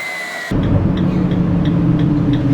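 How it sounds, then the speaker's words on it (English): A steady, loud low rumble of road noise inside a Dodge RAM ProMaster 118 camper van cruising at highway speed, with faint rhythmic ticking over the drone. "you can see that the road noise is starting to get pretty loud"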